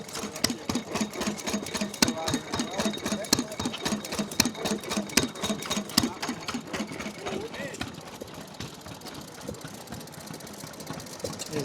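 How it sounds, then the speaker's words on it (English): A small water-cooled two-stroke Villiers vintage engine running at an outdoor engine rally, a rapid, even mechanical clatter close by, with someone talking over it. "Here's a nice little water-cooled 2-stroke Villiers engine."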